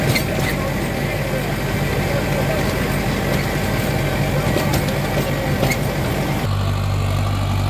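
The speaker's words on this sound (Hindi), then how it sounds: "बहुत ही शानदार आवाज है ट्रैक्टर की" A Mahindra 555 DI Power Plus 57 HP tractor engine runs steadily at close range, a loud, continuous diesel throb that drops to a smoother idle near the end.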